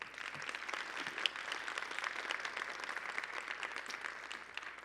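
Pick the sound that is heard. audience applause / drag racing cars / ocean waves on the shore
audience applause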